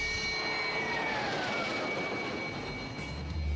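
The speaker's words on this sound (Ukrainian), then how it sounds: "політати на відремонтованому винищувачі Су-27" A Su-27 fighter jet roars steadily overhead, a loud, broad, continuous engine rush that holds level throughout.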